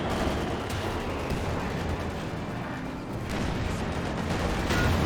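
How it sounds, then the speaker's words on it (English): A Company of Heroes multiplayer battle rages with dense, continuous gunfire and heavy weapon blasts, loud and close, with no voices over the steady din. "Couple good resist gun shots there"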